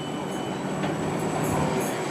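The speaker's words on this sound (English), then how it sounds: "We have a surprise 458 here, which is looking very lovely in its Southwest Trains livery." A Class 458 South West Trains electric unit runs through Clapham Junction, giving a steady rolling rumble with faint high squeals from the wheels and no talking.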